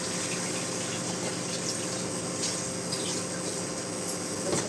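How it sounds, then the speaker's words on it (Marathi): Fenugreek greens being washed in plenty of water, a steady continuous rush and slosh of running water close by, with no talk over it. "जास्त पाण्याने खळाखळा भाजी धुवून घेऊन"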